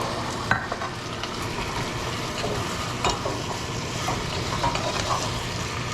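Beef and pepper stir-fry sizzles steadily in a hot pan, a constant crackling hiss broken by scraping, clacking stirring strokes at irregular moments.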